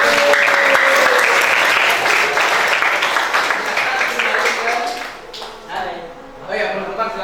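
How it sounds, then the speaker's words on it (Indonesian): Classroom applause for a student group at a teacher-training workshop, steady clapping from many hands filling the room, loud and continuous before thinning out near the end, with some voices mixed in. "kita berikan aplaus dulu untuk kelompok 2"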